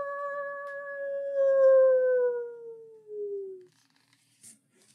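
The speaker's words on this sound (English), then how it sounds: "clever coyote howls beneath the stars to call to his pack" A coyote howls on a cold winter night beneath the stars, calling to its pack: one long, clear, sliding howl that falls in pitch and fades, followed by a short faint sound and quiet.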